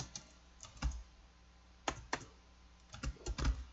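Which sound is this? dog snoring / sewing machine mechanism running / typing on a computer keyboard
typing on a computer keyboard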